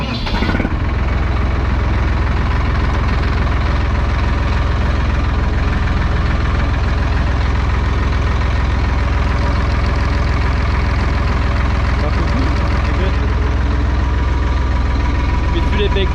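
A Hattat 240s 4x4 tractor engine fires up and settles into a steady, loud, low rumbling idle that holds unchanged for the whole stretch, with a voice talking over it.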